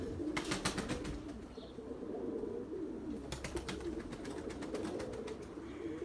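Pigeons coo softly in a low, rolling murmur that carries through the whole stretch, joined by brief fluttering and light rustling bursts at a moderate distance.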